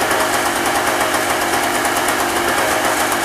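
A smoky old two-stroke generator runs steadily after a cold start, giving a loud, continuous buzzing engine drone with a fast, even pulse and no voices over it.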